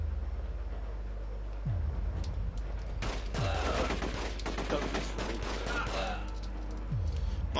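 Pistol fire in the video game The Getaway comes as a quick fusillade of sharp, close cracks over a steady low game rumble, several shots clustered in bursts.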